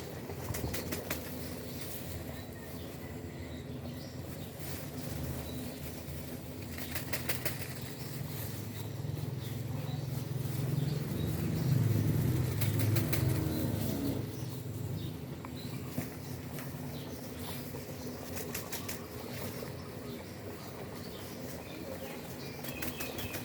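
Chicken thighs deep-fry in oil held at 160 degrees for crispy KFC-style fried chicken, giving a quiet, steady bubbling sizzle that swells briefly in the middle and continues alone.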